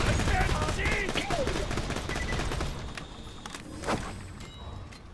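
Rapid automatic gunfire in Borderlands: The Pre-Sequel, set aboard the Hyperion station Helios, rattles loud and dense for several seconds, then thins out into occasional shots and thuds.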